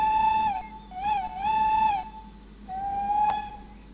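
A looped steam locomotive whistle in a train simulator game, triggered by the space bar, sounds in three sustained, slightly wavering blasts, the tone sliding as each blast starts and ends, clear and alone.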